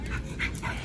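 A dog pants softly and quickly on a walk, with a faint whimpering note, heard close but quiet over outdoor background noise.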